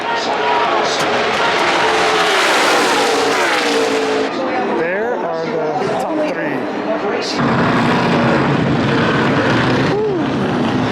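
NASCAR race cars roar past at Daytona in a loud blur of engine noise, their pitch sweeping down as they go by, with voices talking over the din.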